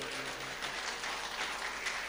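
Applause from an audience at a Hindi devotional discourse on Gupt Navratri remedies, a steady wash of clapping that holds evenly for a couple of seconds with no voice over it.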